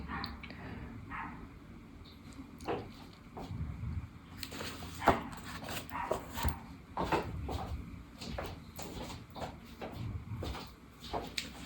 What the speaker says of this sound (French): il y a Sissi qui est sur la terrasse et qui n'arrête pas d'aboyer